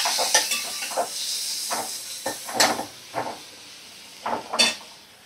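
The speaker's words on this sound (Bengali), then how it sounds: "এবার আমি দেখো কাঁচা লঙ্কা কুচো আর টমেটো কুচি এর মধ্যে দিয়ে দেব।" Chopped green chilli and tomato drop into a pan of hot gravy, bringing short bursts of sizzling and stirring, with spoon clinks against the pan in a faint, irregular rhythm.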